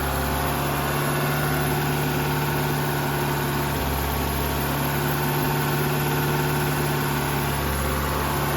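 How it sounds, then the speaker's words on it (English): A Dodge Daytona Turbo Z engine idles high inside a garage, a steady continuous hum with a low drone and faint vibration that holds evenly throughout with no talk. "The idle's still high."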